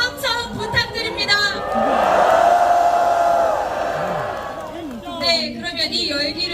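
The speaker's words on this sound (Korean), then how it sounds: "다시 한번 큰 박수와 함성 부탁드립니다." At a candlelight rally on the steps of the National Assembly main building calling for a presidential impeachment, a large crowd breaks into cheering and applause for a few seconds, framed by an amplified voice speaking before and after.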